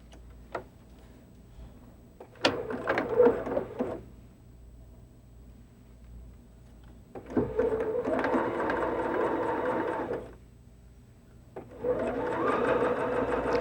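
A sewing machine fitted with an edge stitching foot runs along a fabric seam in two sustained bursts of fast, even whirring stitches, with a few separate clicks and taps between them.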